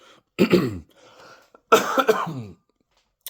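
Two separate bursts of coughing, each a harsh rough cough close to the mic, with a short quiet gap between them and no talking.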